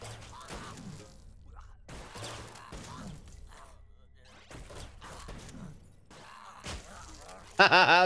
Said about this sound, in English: Point blank with a shotgun.